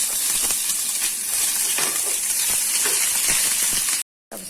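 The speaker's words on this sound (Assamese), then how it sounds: "গোটা জিৰা ফুটিব দিম গোটা জিৰাখিনি" Whole cumin seeds sizzle and crackle in hot oil, a steady close hiss with small scattered pops continuing for several seconds, heard alone before a brief cut in the sound.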